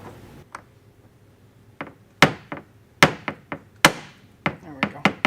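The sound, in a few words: hammer and punch knocking out plastic rivet core, BMW X3 M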